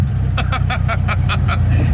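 A 1974 VW Beetle's air-cooled engine lugging at low revs while driving, a deep, uneven putter with a rhythmic pulsing clatter repeating about every fifth of a second, loud and close with no talk over it.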